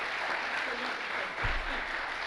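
An audience applauds steadily at a live question-and-answer event about Judaism, dense continuous clapping filling the room at moderate volume.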